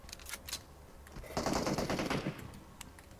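Automatic gunfire in the mobile game PUBG Mobile: a sustained burst of rapid shots with a few scattered single cracks before and after, heard clearly with no voices.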